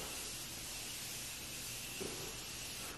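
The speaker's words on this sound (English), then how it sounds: "I have my setting spray. This is the best setting spray because it's so even." Makeup setting spray mists out in a steady, even hiss that lasts about three seconds, close but quiet, with no talk.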